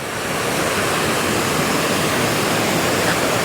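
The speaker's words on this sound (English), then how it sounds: "Here's our waterfall action for the day." Loud, continuous roar of a nearby waterfall near Grasmere in the Lake District, a dense wall of rushing water with no pauses.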